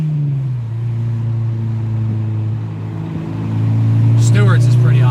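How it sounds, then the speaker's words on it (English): A Honda Integra Type R with a K20A engine drones at a steady low pitch, then swells louder and climbs as VTEC engages near the end, heard from inside the car with a voice speaking briefly. "Uh-oh, VTEC just kicked in."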